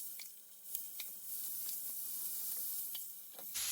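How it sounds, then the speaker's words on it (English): Shrimp searing in a hot skillet for a shrimp Alfredo, a steady soft sizzle and hiss close by with a few sharp crackles and pops, no talking. "All I'm going to do is just place my shrimp in the skillet for a minute or two."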